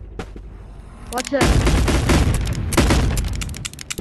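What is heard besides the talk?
gunfire in the video game Animal Company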